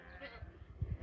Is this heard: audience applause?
no